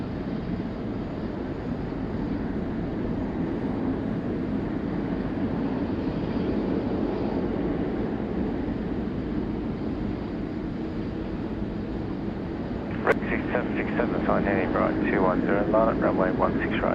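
A China Southern Boeing 787 lands on runway 16 right at Sydney Airport. Its steady, broad jet roar holds at moderate level from a distance throughout, and a brief voice-like warble rises over it near the end.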